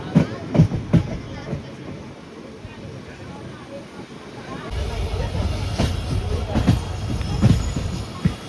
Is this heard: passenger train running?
yes